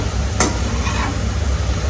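Finely chopped onion and tomato sizzle softly in a pan as a spoon stirs and presses them, with a quick scrape near the start and a steady low frying hiss throughout, no voices present.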